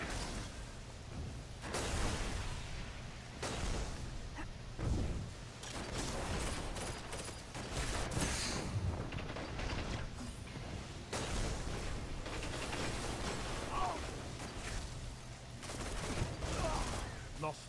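Hereafter weapon gunfire in a video game, heard as dense, loud, overlapping bursts and blasts over a busy mix of game effects, with players' voices talking throughout.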